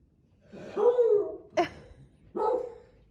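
An unhappy puppy gives a few barks and yelps indoors at mealtime, with a long drawn-out whining bark followed by two shorter sharp ones, fairly close and moderately loud.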